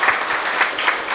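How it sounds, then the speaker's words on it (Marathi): An audience at a Mahashivratri kirtan in Mehkar applauds, a loud, dense burst of clapping from many hands that fills the short stretch with a steady rhythmic patter. "त्याच्यासाठी एकदा टाळ्या वाजवा."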